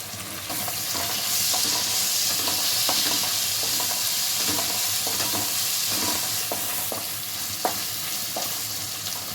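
Curry leaves and ginger-garlic paste frying in oil for a brinjal and fish curry, giving a constant loud sizzle with repeated spatula scrapes and taps against the pan throughout.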